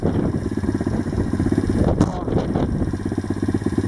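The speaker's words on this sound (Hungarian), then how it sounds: "Motort hajt." A motorbike engine runs steadily with a pulsing mid-range drone, heard alongside background chatter and a brief noisy burst midway through.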